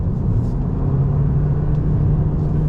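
A 2021 Toyota Prius 2020 Edition hybrid cruising on a highway, heard from inside as a steady, loud low road rumble and hum with no change in pace and no talking.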